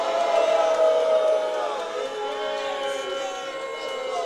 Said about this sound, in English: You hear the reaction from the crowd.